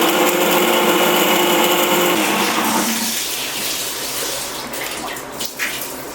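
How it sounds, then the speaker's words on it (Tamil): A kitchen mixer grinder whirs loudly as it grinds cumin and black pepper, a harsh steady motor roar that eases after a few seconds into a softer, fading spin-down. "ஜீரகமும் கொஞ்சம் மிளகு போட்டு அரைச்சிக்கலாம்."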